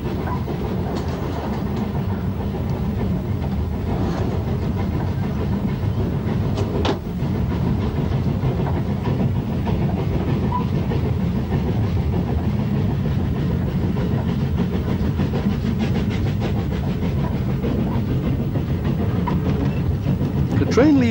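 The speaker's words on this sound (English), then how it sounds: "Our train is working hard as it approaches the line's summit." A steam train labors uphill through open moorland toward the line's summit in South Wales, with steady rolling clatter and chuffing throughout and a narrator talking over it.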